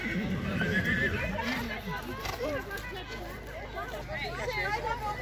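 A horse whinnies amid a babble of several people talking nearby at a Hubertus event at a stud farm, the neighing rising and falling over the chatter.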